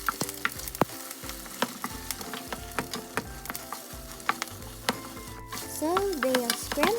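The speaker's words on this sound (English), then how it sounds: "put some oil in a pan, and crack your eggs in. And let's scramble them up" Eggs scramble in hot oil in a frying pan, a constant sizzle under repeated clicks and scrapes of stirring, with a low hum and tonal sounds rising near the end.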